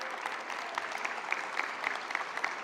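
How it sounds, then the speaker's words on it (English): An audience at a government update on anti-gun-violence programs applauds steadily, a fairly faint, even patter of many hands with no talking. "Round of applause for him."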